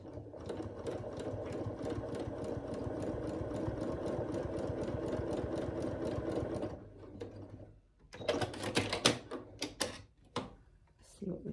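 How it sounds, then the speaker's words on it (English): A sewing machine with a darning foot stitches appliqué onto a VW Bug jacket, a fast steady mechanical chatter for several seconds, then stops as fabric rustles and handling noises follow. "I did change my stitch length to a little shorter stitch length, because I'm going to be more like sewing,"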